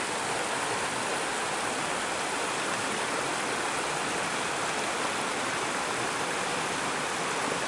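Small waterfall on Watson Run, a stream at Todd Nature Reserve during a spring hike, giving a steady, dense rush of falling water close by that continues unchanged and alone throughout.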